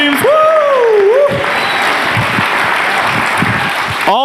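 Applause for the teams at a healthcare startup showcase, a loud sustained round filling the hall, with a cheer and whoop rising over it at the start before it settles into steady clapping.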